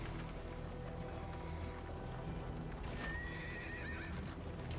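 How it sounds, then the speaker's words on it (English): Horses whinny and clip-clop through the game soundscape of Darkest Dungeon 2, with hooves tapping steadily under a dense, constant rumble and a neigh rising out of the mix near the end. "there's some new sound effects here with these horses"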